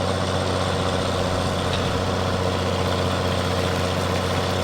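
A John Deere tractor engine in Farming Simulator 17 drones steadily with a deep, constant low rumble and no pauses, close and loud, with no voices over it.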